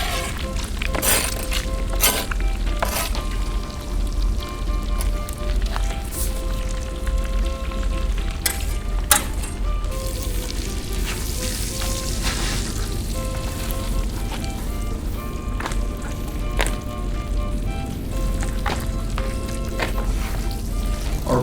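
Potato taco ingredients sizzle in a hot pan with a dense, continuous frying crackle, broken by sharp spitting pops and clatters of utensils, moderately loud and steady throughout.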